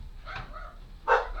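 Dogs barking at a delivery van outside, two short muffled barks heard indoors at moderate distance over a low background hum.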